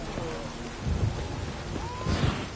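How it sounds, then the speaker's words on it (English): Heavy rain hisses steadily in The Witcher 3, and two deep rolls of thunder rumble up through it, the second swelling near the end. "This downpour's a bastard"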